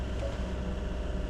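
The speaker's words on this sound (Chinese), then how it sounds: "大家听到这嘈杂的背景声，其实是引擎在跑的声音。" A sailboat's engine runs in a harbour at night, a constant low mechanical drone with a noisy, wind-like wash over it, steady and unbroken.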